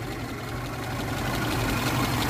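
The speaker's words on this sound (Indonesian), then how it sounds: "Mesinnya halus banget," A 1994 Suzuki Katana 4x4 with CDI ignition sits idling with a smooth, steady engine hum and a low rumble, close and continuous with no talk over it.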